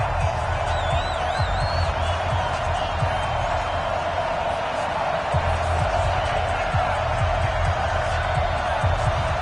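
Stadium crowd at a Denver Broncos game in an American football video game on PS4, a dense, loud, continuous roar with scattered cheers and whoops throughout.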